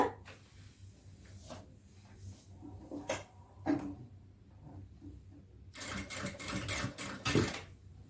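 A sewing machine stitches along a folded fabric edge, with soft handling clicks and shuffles at first, then a louder steady run of stitching near the end, close by.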